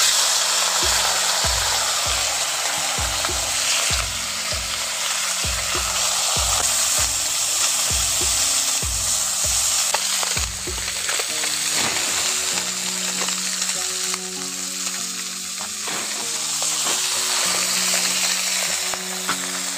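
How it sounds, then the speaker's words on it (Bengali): Small fish fry in hot oil for a tomato fish dish, a loud dense sizzle that roars continuously. A low droning hum runs underneath throughout. "ওর মধ্যে এখন মাছগুলো দিয়ে দিচ্ছি।"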